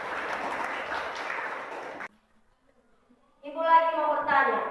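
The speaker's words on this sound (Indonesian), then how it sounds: "Tepuk tangan dulu." Children applauding in a classroom, a short burst of clapping lasting about two seconds, then silence before an adult voice speaks.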